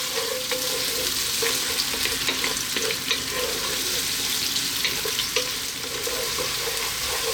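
Garlic frying in a pan over above-medium heat gives a steady, close sizzle that runs unbroken throughout, with a few faint stirring clicks and no talking.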